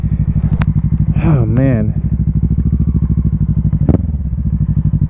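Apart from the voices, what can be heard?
Kawasaki Ninja 650 motorcycle engine running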